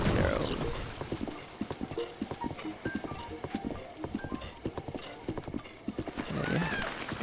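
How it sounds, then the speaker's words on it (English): A horse trots in the open-world video game Zelda: Breath of the Wild, rhythmic clip-clop hoofbeats running steadily throughout, with whinnying neighs near the start and end over ambient game sound. "Like right here, I'm not controlling the horse."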